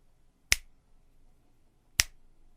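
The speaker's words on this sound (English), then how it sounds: "Now with snaps." Two sharp finger snaps about one and a half seconds apart, each a crisp isolated crack with a short reverberant tail, recorded through a condenser studio microphone in a quiet room.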